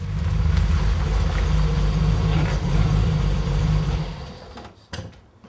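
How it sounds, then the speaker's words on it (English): A classic Triumph GT6 rumbles steadily close by as it pulls up, a low engine drone that holds for about four seconds before cutting off abruptly, followed by a brief clunk. "So we saw you pull up in your GT6"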